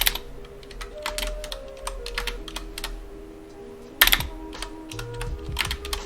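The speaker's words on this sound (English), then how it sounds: "I'll have to type the whole thing in" Irregular clicks from a computer keyboard being typed on, in quick bursts with short pauses and one sharp louder clatter midway, over a low steady hum.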